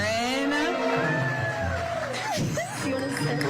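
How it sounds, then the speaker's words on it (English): Crowd cheering, whooping and applauding for a woman named Lauren, a loud sustained roar of voices with shouts rising over it throughout. "can we get another round of applause for Lauren?"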